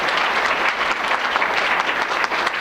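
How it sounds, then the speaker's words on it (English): Dense, steady applause fills the room at a university occupational therapy awards ceremony, a loud, continuous wash of clapping from the audience. "So please, give them a round of applause."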